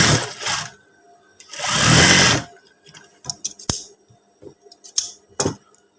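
A sewing machine stitches the back of a collar on a school uniform in two bursts of fast whirring, followed by scattered clicks and handling noises of fabric being adjusted.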